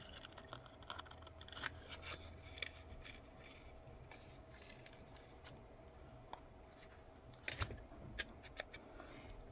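Scissors trimming excess paper for a folded explosion box craft, a few sharp snips and rustles over a quiet room, close and fairly faint with no talking.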